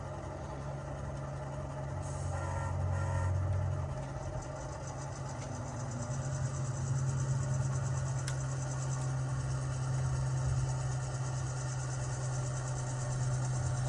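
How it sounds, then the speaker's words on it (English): A model train locomotive runs on a layout, a steady, close mechanical hum and whir throughout with a low drone, its small motor running continuously without any voices. "I got an engine sitting over here on the crossing, so we're gonna give it its maiden voyage here."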